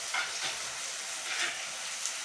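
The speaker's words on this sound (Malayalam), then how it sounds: "അത് അരപ്പ് നന്നായിട്ട് വഴന്ന് വന്നിട്ടുണ്ട്." Masala paste sautéing in a pan for pork vindaloo, giving a steady, close, broadband sizzle with soft stirring swells throughout.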